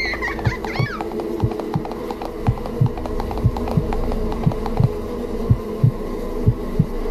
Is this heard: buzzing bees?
yes